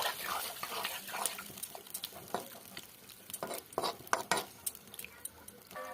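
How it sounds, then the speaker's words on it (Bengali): Raw amodi fish curry in a pan as a small amount of water goes in, with stirring, light sizzling and clinks of a utensil against the pan, close and moderately quiet. "এবার কিন্তু অল্প করে জল দেবো, বেশি জল দেবো না, একদম অল্প করে জল দেবো।"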